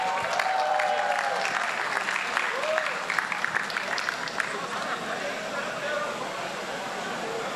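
A crowd applauds the general manager at a factory event in Bahia, a full, sustained clapping that stays fairly even and slowly thins, with voices and an amplified speaker heard over it.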